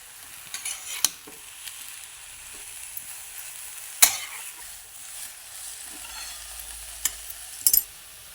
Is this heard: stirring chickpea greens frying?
yes